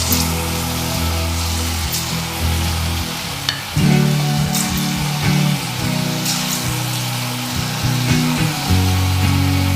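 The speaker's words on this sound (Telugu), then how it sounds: "కొంచెం మీడియం ఫ్లేమ్లో పెట్టి వేపుకుందాం." Boiled cauliflower pieces deep-frying in hot oil over a medium flame for restaurant-style Gobi 65, a dense bubbling crackle close by with patter like rain, a low steady hum beneath, and a brief bump partway through.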